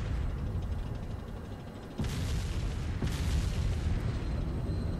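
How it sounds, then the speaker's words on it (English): Mortar rounds exploding in a military video game set in Takistan: a steady rumbling wash broken by two sharp, loud booms about a second apart, with no voices. "Mortars are getting us pretty good with mortars."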